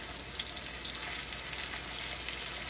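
Pork chops frying in hot extra virgin olive oil in a single pan, giving a steady, dense sizzle with fine crackle and spit, close and even throughout with no talking.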